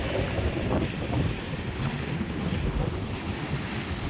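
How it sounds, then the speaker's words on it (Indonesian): Strong wind roars and buffets a microphone beside open sea on a morning walk in Waisai, Raja Ampat, with steady broadband wash of breaking waves and spray continuous throughout, loud and close. "Anginnya luar biasa."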